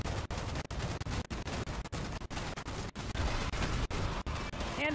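Missiles firing in Fallout 76 during a Scorchbeast Queen fight: a dense, continuous barrage of sharp launches and booms in rapid irregular succession, loud and near, with a player's voice talking over it.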